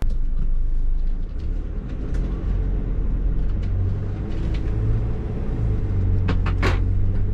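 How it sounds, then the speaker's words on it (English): Vehicle engine starts and runs with a steady, loud low rumble as the car begins driving, a brief clicking near the end, no talking. "So I'm gonna kick on the car and we'll start driving."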